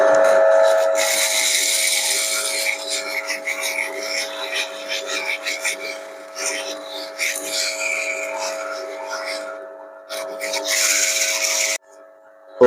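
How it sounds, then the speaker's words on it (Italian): A drill press turns slowly while a Damascus steel survival knife blade is sanded with 120-grit abrasive cloth, giving a steady whirring hum with a soft rubbing hiss that rises and falls, running close and continuous before stopping near the end. "Lo mettiamo sul mandrino del trapano colonna, una velocità bassa"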